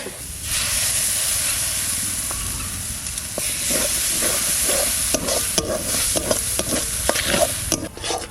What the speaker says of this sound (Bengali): শাকটা ভাজা ভাজা হয়ে গেছে এবারে চালের গুঁড়িটা দিয়ে